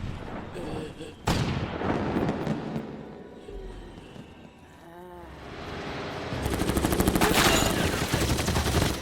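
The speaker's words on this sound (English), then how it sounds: "The fireworks soon fill the night sky, pulling the zombies' attention upward" Fireworks burst across the night sky in a zombie movie scene, a dense, loud stretch of booming cracks and crackling over a swelling score, with a sharp blast early on and a heavy barrage near the end.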